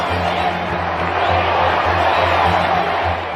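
Crowd cheering and whooping as Fergie and Andrew share their royal wedding kiss, a broad, sustained roar of many voices at middle distance, steady and loud for a few seconds.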